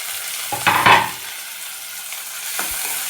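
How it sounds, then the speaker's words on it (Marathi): Vegetables with chopped tomatoes and green chillies fry in a pan, a soft steady sizzle with louder bursts of stirring and scraping near the start and again briefly toward the end. "आपल्या भाज्या ज्या आहेत ते छान फ्राय झाल्या"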